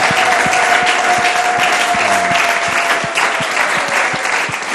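A church congregation breaks into loud, sustained applause at a worship service, many hands clapping densely and evenly over a faint sustained tone, with no speech on top.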